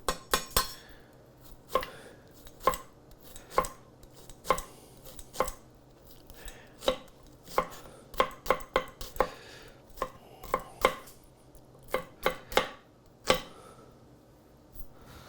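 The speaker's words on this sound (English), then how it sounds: "So I'm going to go with a 1/2 an onion. I just want to chop that finely." Half an onion is chopped finely with a knife on a board, each sharp chop landing close and distinct in an irregular rhythm of quick bursts and short pauses, with no talking.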